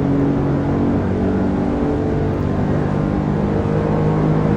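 A racing car engine in Assetto Corsa hums at a steady, unhurried pace, a continuous loud drone with stable tone and no talking.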